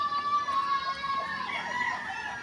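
Chickens cluck and call close by in a steady run of bright, overlapping notes, with one drawn-out crow-like cry in the mix and no voices.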